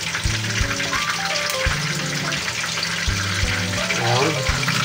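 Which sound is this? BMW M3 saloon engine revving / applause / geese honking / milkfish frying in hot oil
milkfish frying in hot oil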